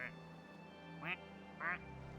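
A duck gives a few scattered quacks, about three short calls, close and moderately loud over a faint steady hum.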